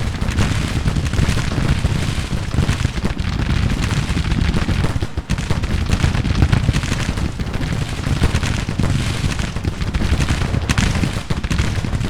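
Sustained musket and cannon fire from a Civil War strategy game rolls on without pause, a dense, rumbling crackle of volleys and booms with a brief dip midway and no talk.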